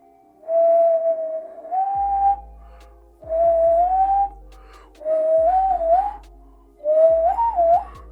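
Human whistling in four separate phrases, each a clear held tone that bends and warbles as the tongue shifts the pitch, with short silences between and low thumps at each phrase.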